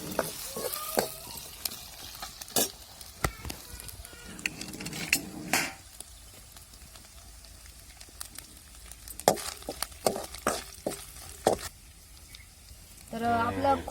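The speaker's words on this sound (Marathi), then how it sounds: "जे आपण किसून घेतलेलं खोबरं होतं ते टाकायचंय आणि ते बी चांगलं परतून द्यायचंय" Grated coconut and garlic sautéing in a pan while cooking amti, a steady sizzle punctuated by repeated spoon scrapes and stirring clinks against the pan, close and fairly loud.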